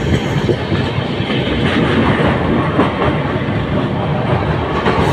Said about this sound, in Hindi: ट्रेन की स्पीड बहुत अच्छी है, एक्सप्रेस ट्रेन है, बहुत बढ़िया ट्रेन है।